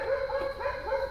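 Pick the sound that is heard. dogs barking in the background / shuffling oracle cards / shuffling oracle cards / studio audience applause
dogs barking in the background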